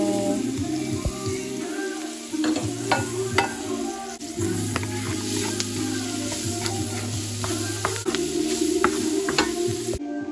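Onion and garlic fry in chicken oil with a steady, close sizzle, punctuated by repeated clinks and scrapes of a utensil stirring the pan.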